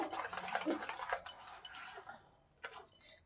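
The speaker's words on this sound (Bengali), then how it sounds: "এবার জল দিয়ে এই ব্যাটারটা তৈরি করে ফেলবো। ভালো করে ফেটিয়ে নেব" Batter of gram flour (besan), water and a pinch of baking soda being whisked in a bowl for a fried banana-flower chop, giving brisk clinking and scraping strokes against the bowl in quick irregular bursts, close and fairly quiet.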